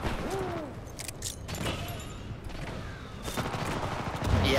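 Gunfire in the shooter Titanfall 2, bursts of rapid shots and clattering over a steady game backdrop, with faint voice chat in places.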